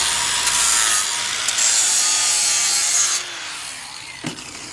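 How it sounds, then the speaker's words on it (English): A grinder steadily grinds down two pieces clamped together in a table vise until they are even, a continuous loud abrasive hiss that eases off near the end with a brief knock. "grinder and just grind it down until they are even"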